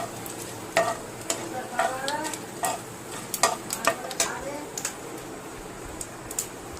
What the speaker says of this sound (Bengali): এই তেজপাতা, শুকনো লঙ্কা আর পাঁচফোড়ন দিয়ে দিলাম একসাথে।